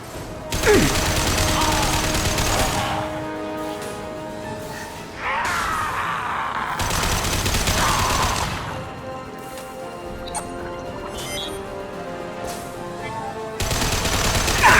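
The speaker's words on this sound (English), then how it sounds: "Firing a high-impact shot." High-impact shot gunfire in the video game Mass Effect 2, loud repeated bursts of heavy weapon fire in several long volleys with brief gaps, mechanical whooshes between them, and no talking.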